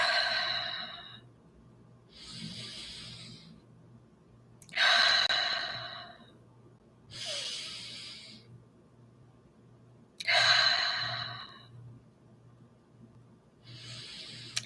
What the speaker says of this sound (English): while we take some deep breaths